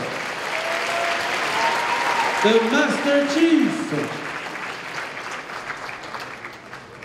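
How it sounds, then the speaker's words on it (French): Crowd at a cosplay contest at the Polymanga 2016 convention claps for a Master Chief cosplayer, steady applause with an announcer's voice speaking over it midway. "On l'applaudit bien fort."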